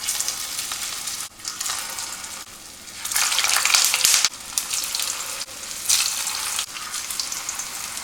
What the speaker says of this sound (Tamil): இதை நம்ம ஷாலோ ஃப்ரை தான் பண்ண போகிறோம்.